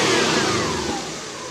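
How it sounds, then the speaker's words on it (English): Engine of a Subaru van conversion revving quickly and strongly, a close, loud mechanical roar that builds and then eases slightly over a short burst. "revs nice and quick"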